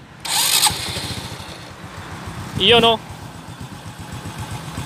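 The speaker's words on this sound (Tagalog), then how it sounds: "start na natin itong motor." A Honda XRM 125 motorcycle at a street corner is started with a brief, sharp starter whine and then settles into a smooth, close idle, with someone talking before and around it.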